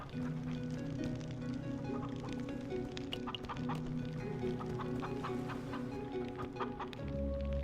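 Chickens cluck repeatedly in Minecraft Story Mode Season Two, a string of short clucks over a steady in-game ambient drone with soft background music.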